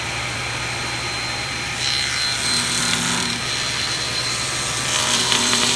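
A hand saw trims the edge of a wooden door with a steady, rasping, continuous cut under a constant background hum, the stroke growing slightly louder partway through.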